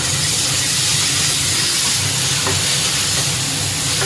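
Mustard paste goes into a hot pan with oil and fries with a continuous loud sizzle and hiss, with faint stirring scrapes and no voices.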